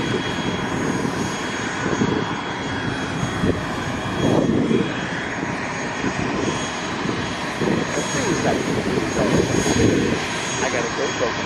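Aircraft engines roar steadily and loudly at an airport before boarding, a continuous close drone with a faint high whine running throughout.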